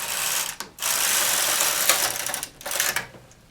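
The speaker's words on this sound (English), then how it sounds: "I thread the machine and I knit across slowly" A knitting machine carriage pushed slowly across a row gives a continuous mechanical whirring rattle, close up, broken by short pauses and a final slowing.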